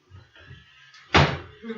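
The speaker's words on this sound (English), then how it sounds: "If you want to shut that door all the way." A patio door swings shut with a single loud thump partway through, preceded by quieter shuffling and low voices nearby.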